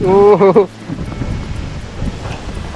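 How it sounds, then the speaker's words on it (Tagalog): A voice speaks briefly, then strong wind roars and buffets the microphone in a steady, low, rumbling gust. "Lakas ng hangin."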